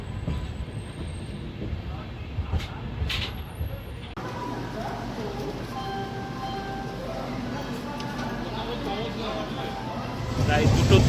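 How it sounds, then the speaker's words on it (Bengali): Howrah-Tirupati Humsafar Express train pulling into Kharagpur Junction: a steady low rumble of rolling wheels and carriage noise with faint squeals and clanks, growing louder toward the end, with background voices. "ট্রেন আমাদেরকে ঢুকিয়ে দিল খড়গপুর জাংশন।"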